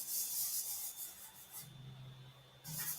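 A surface is sanded level by hand in a run of rough, rasping back-and-forth strokes, close and fairly quiet, with a brief pause before the scraping resumes.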